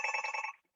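A telephone rings once during a lecture on Erna Fergusson, a short bright electronic trill lasting about half a second and then cutting off into silence.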